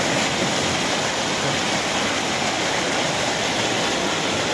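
A broad, steady roar of typhoon floodwater rushing, loud and continuous without a break, with no voices over it.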